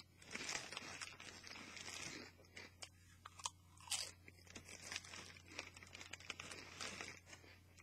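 Crunchy Doritos chips being chewed close up, a steady run of crisp bites and crinkling bag rustle continuing for several seconds, quiet but distinct.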